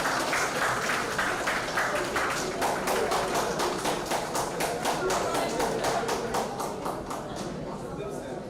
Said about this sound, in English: let's applaud our producer